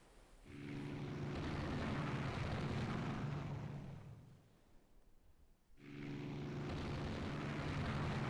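Aircraft roaring in on an attack in the naval strategy game Rule the Waves 3, a loud sustained droning engine rush that fades briefly and then swells again, with no voices.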